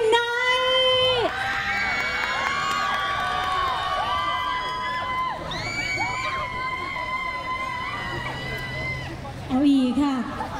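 Fans at a cover performance cheer and shout in a loud crowd swell, with high excited voices under an amplified host's talk that runs throughout.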